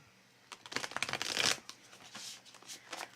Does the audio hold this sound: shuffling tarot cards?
yes